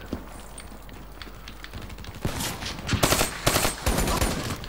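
Gunfire from a Call of Duty Black Ops 3 multiplayer match: scattered quieter shots at first, then loud dense bursts of automatic fire in the last two seconds, with no talking over it.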